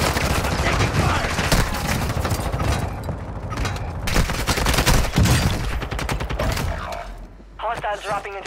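Dense, close gunfire from the Call of Duty Warzone video game rattles in rapid automatic bursts mixed with single shots and impacts, nearly continuous and loud, with in-game voice callouts heard over the shooting near the end.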